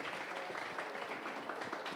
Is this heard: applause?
yes